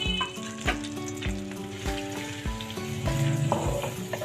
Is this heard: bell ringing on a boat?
no